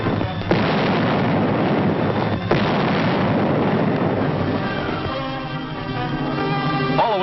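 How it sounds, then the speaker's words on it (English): 155mm Long Tom artillery guns fire a barrage, with heavy booming reports that roll into a continuous thunderous rumble and two sharp blasts that stand out, heard on an old documentary-style soundtrack with a narrow, muffled top end. "Huge 155mm rifles, long toms capable of hurling a shell for more than 6 miles,"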